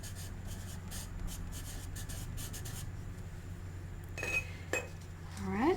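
Pen or pencil scratching across paper during a palette-knife painting session of tropical botanicals, a soft continuous rubbing with a few sharper strokes and light scrapes near the end.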